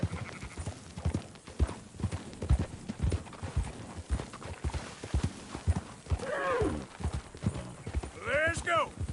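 Horse hooves clip-clop steadily in a PS4 video game, with a couple of whinnies near the end, while someone talks over the riding throughout.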